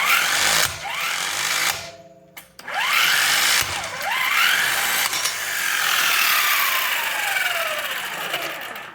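Electric impact wrench from a 5-ton electric car jack kit removing a car wheel, its motor whirring loudly in repeated bursts with rising and falling pitch and rattling hammer impacts, broken by a short pause near the start.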